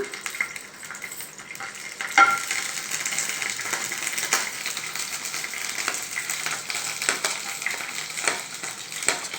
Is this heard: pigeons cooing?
no